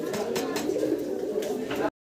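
A pair of pigeons coo nearby in a low, continuous, throaty murmur lasting about two seconds before it cuts off.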